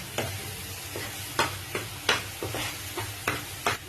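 A spoon stirs paneer through tomato sauce in a hot pan, giving a run of rhythmic scraping clacks over a low, steady sizzle.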